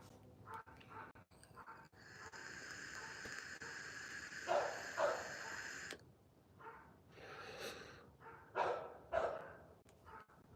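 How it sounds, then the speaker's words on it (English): Several dogs bark and yip in short bursts, some near and some farther off, with panting and whimpering in between and a steady background hum. "What are dogs worked up about?"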